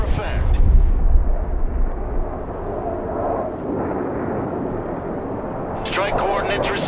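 Aircraft roar through an airstrike in the Broken Arrow war game, a loud rumbling engine sweep at the start easing into a sustained droning wash, with a burst of crackling noise near the end.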